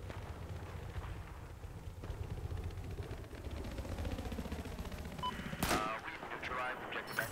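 Gunfire rings out in Battlefield 4 multiplayer on the Siege of Shanghai map, a dense, continuous rattle of shots with a sharp loud burst near the end, while a voice talks faintly under the action.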